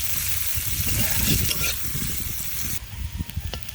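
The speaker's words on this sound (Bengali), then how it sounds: "পেঁয়াজ কুচিটাকে আমি ব্রাউন করে ভেজে নেব।" Chopped onions frying in hot oil until brown give a loud, dense crackle throughout, with scraping and stirring knocks from the pan.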